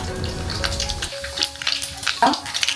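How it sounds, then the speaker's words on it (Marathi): Mustard seeds crackling in hot oil for a masala okra dish, heard as a close sizzle with scattered pops and crackles and a brief tonal clink, short and without talk. "मोहरी छान तळतळली की त्यात आपण घालून घेऊया जिरे"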